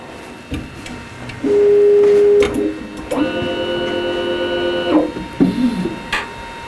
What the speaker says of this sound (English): It sounds like an industrial printer.